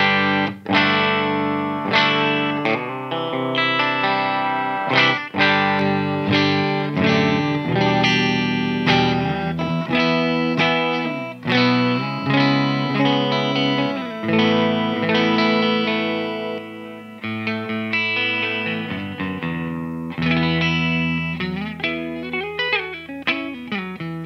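An Epiphone Dave Mustaine Prophecy Flying V electric guitar with Fishman Fluence pickups plays ringing chords and melodic single notes through effects, loud and close with no voices, for over twenty seconds.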